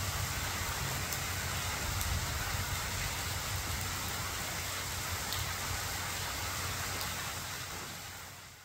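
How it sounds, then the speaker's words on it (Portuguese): Heavy rain pours overnight in Uruaçu, Goiás, a dense, steady hiss of falling water across the whole stretch, loud and unbroken, fading slightly at the end. "Muita chuva pela madrugada, veja aí."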